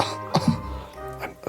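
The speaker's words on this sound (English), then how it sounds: "I lean against the wall and cough a little." A person coughs a couple of times, short raspy bursts close by with a faint voice murmuring around them.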